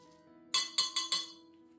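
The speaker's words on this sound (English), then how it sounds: "Add 3 tablespoons of rice to the glass." Four quick, bright clinks of dry rice grains striking a glass, close up, with quiet background otherwise.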